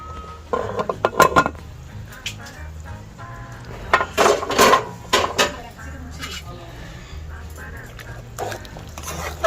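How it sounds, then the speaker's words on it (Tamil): A pressure cooker of cooked mutton being opened in a home kitchen, heard as clattering metal lid and pot knocks in irregular bursts, close by, with quiet stretches between. "குக்கரை திறக்கும் போது ரொம்ப ஜாக்கிரதையாக திறக்கணும்"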